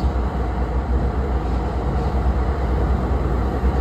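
Steady interior rumble of an NJ Transit train riding between Convent Station and Madison, a continuous low, even drone with faint rattling and no talk.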